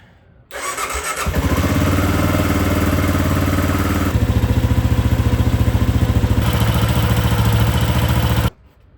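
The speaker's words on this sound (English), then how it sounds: "Now we are ready to start the bike." A motorcycle engine cranks and fires, then settles into a loud, steady idle with an even rhythmic throb, heard up close and alone after a doohickey repair.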